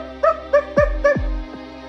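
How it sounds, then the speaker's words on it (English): Pug character barking in a Poppy Playtime video game: four quick yappy barks in a row followed by a faint fifth, sharp and close with no talk over them. "I literally can bark and I literally can be PG the pillar, pug-a-pillar"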